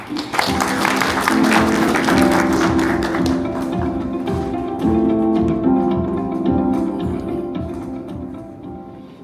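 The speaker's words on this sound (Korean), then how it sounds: "큰 박수 부탁드립니다" Audience applause at an indoor tech talk for the Hyundai Casper Electric, loud dense clapping that swells then gradually thins, with a low musical hum beneath it.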